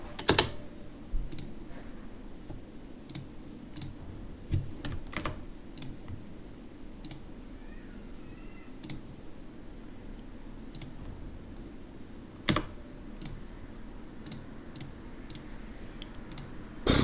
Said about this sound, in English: I will mute you for now, Lizard, because you're just clicking